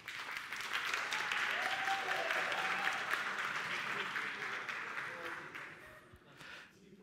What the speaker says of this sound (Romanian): Vă rog să aplaude oamenii respectivi.